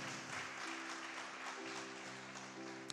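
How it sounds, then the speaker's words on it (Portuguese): A church congregation applauds steadily, a dense wash of clapping held at a fairly distant, even level while a low hum sounds beneath it. "Forte esse aplauso a Jesus"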